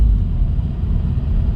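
A manual-transmission car moving through traffic near tractor trailers, coasting with the clutch in and then easing on a little gas, gives a steady, loud low engine and road rumble that holds fairly even throughout.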